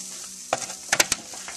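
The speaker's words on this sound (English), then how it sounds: "Can you hear that sizzle?" Short ribs on a grill give a steady hiss of sizzling with a few sharp crackles and pops partway through, close and fairly quiet, no voices.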